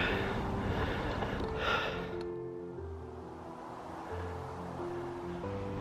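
Heavy, close breathing from a cyclist catching their breath after riding up a hill, steady and breathy over a low outdoor rumble, with no talk.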